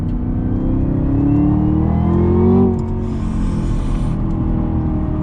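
A Chevrolet Camaro ZL1 muscle car's engine revs on throttle from inside the car, a loud, deep rising drone that peaks and then eases off, with no talking.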